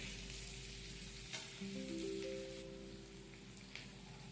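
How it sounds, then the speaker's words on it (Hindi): Ingredients for hariyali paneer fry in a pan with a continuous close hiss and crackle, a faint steady hum beneath and an occasional soft stirring knock. "इन सब चीजों को हम सॉफ्ट होने तक भूनेंगे ताकि ये अच्छे से ग्राइंड हो सके।"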